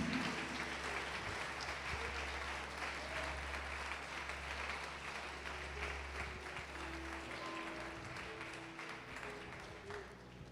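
A church congregation applauds with steady, sustained clapping that fills the room at moderate distance for about ten seconds, with no voices over it.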